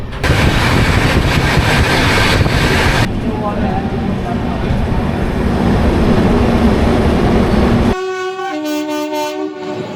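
The 13009 Doon Express passenger train, running from Howrah to Rishikesh, rumbles loudly on the tracks with a continuous clatter that shifts in tone partway through, then a long, multi-toned horn blast sounds near the end.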